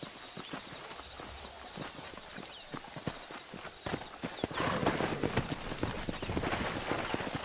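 Hooves clip-clopping steadily at a walk in the video game Red Dead Redemption, a regular rhythm of hoof strikes that grows louder and busier toward the end.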